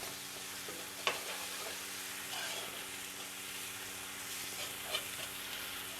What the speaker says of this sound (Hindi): अब हम इसमें अदरक लहसुन डाल लेंगे।